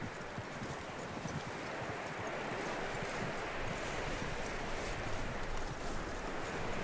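Horse hooves clip-clop at a steady walking rhythm in Red Dead Redemption 2, soft and continuous under a broad outdoor wind hiss.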